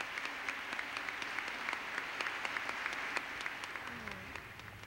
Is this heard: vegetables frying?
no